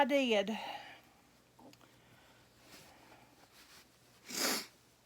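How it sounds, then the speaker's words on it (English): A voice speaks briefly at the start, then faint breathy allergy sniffs follow, ending with one sharper, louder sniffle near the end. "Excuse my sniffles. My allergies are going all wonkers on me right now."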